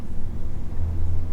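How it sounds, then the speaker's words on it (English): Low road rumble fills the cabin of a car with a very quiet engine while it drives over a slightly rough road, a steady deep drone with no talking. "because the engine is so quiet, you get more road noise"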